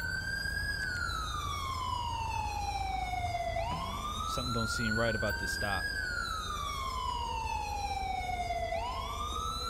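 Police car siren in GTA 5 wails steadily up and down at close range for the full stretch, with someone talking over it partway through.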